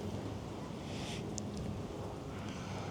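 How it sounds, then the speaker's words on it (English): Strong gale-force wind buffets the microphone in a constant rumbling roar on an open riverbank, with a few brief faint higher tones on top. "it is blowing a gale"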